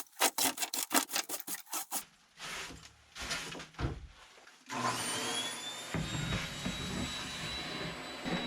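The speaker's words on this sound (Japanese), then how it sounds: "その後ね、掃除機をバーッとかけていきます。" Vacuum cleaner running steadily in an old, rusty storage shed full of cobwebs, a continuous close whine taking over after earlier rubbing and scraping sounds from sweeping.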